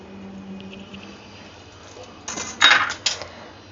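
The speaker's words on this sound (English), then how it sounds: "Now other half sieve into this." Flour being sieved into mango cake batter: after a quiet start, a few brief metallic clinks and rattles of the sieve against the bowl come close together near the end.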